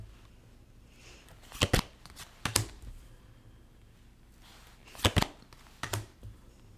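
A few quick bursts of tarot cards being riffled and shuffled, each a short crisp flutter, separated by quiet pauses.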